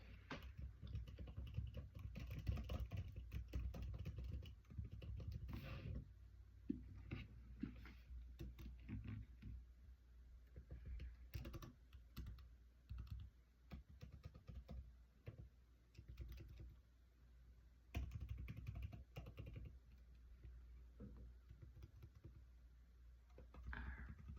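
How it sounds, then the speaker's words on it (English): Quiet, close clatter of fingers typing on a computer keyboard, irregular bursts of keystrokes with brief pauses, continuing for the whole stretch without speech. "That's the really nice thing about typing this out on a computer."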